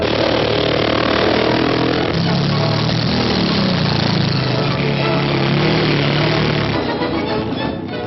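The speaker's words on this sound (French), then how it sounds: "C'est en moto, sur un terrain des plus variés, que va se poursuivre la course." Motorcycles racing over varied terrain during a 1940 French military sporting competition, a loud, steady mechanical engine drone that swells and shifts continuously without pause, with no talk over it.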